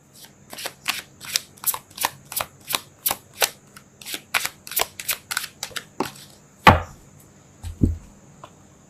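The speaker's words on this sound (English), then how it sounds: "I'm going to pull one more card" Tarot cards being shuffled in a quick run of about fifteen crisp, evenly spaced riffles and snaps, followed by a couple of louder single thumps as a card is pulled and laid down, close and without talk.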